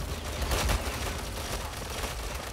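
Gunfire in Ghost Recon Phantoms, a dense unbroken rattle of shots and combat noise, loud and steady across the short stretch with a slightly heavier burst early on.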